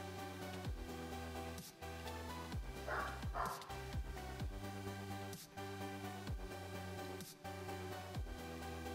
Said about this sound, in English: sorry if you guys can hear my dog now